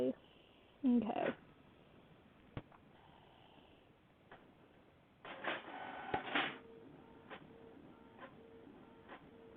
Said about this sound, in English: choose my printer and print it out